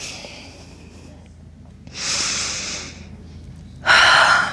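Two loud breaths, a long airy exhale followed by a sharper, stronger one, with quiet background between them.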